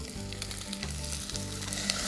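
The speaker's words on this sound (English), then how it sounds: "So let's get our coconut milk in" Coconut milk poured into a hot pot of callaloo, loud close sizzling and bubbling that holds steady throughout with no voices.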